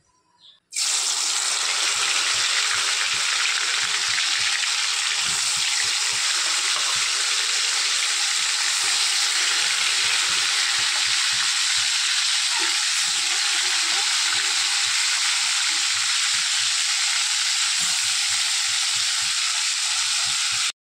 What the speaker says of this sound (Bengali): ওগুলোকে আমি দিয়ে দিলাম, দিয়ে এবার ভেজে নিচ্ছি